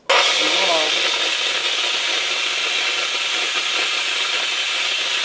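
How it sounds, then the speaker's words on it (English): A steam machine blasts a continuous loud hiss while freshening a hat, starting abruptly and holding steady and close for several seconds. "I'm gonna get a baptism over here with this fine steam machine that he has."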